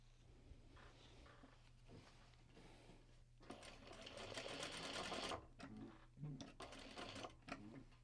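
A sewing machine chain pieces Japanese fabric in quiet bursts of fast stitching, with handling clatter and short pauses between seams, all faint and close.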